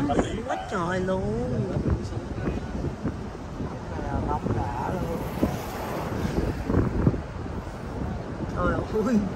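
Strong seaside wind buffeting the microphone in a steady roar with waves behind it on a Vietnamese beach, while people talk loudly over it throughout.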